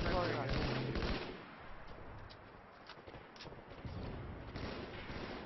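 Rapid gunfire in a video game, a burst of loud shots at the start followed by scattered fainter pops and impacts, with players talking over the action.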